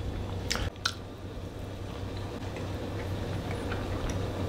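Fluffy, syrup-soaked food is chewed close to the microphone in ASMR, giving a few soft bites early on and then quiet, moist chewing over a low steady background hum.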